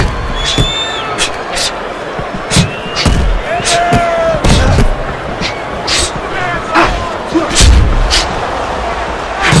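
Boxing punches land in the video game Fight Night Round 4, Marvin Hagler against Carlos Monzon, a string of sharp heavy thuds at irregular intervals over a murmuring arena crowd, with a commentator talking between blows.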